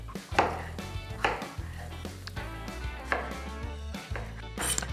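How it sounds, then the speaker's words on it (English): Vegetables, likely tomatoes, chopped with a knife on a board for mushroom gnocchi, a few close, irregular knife strikes with a faint clatter of kitchenware in between. "Back to chopping."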